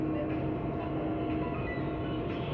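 CPTM series H541 commuter train rolling along, a steady close rumble and rattle of the carriages continuing without a break, heard from inside the car.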